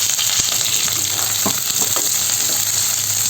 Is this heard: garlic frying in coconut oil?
yes